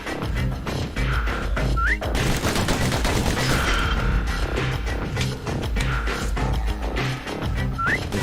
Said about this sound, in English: The slingers like to edge each other out using customized pistols.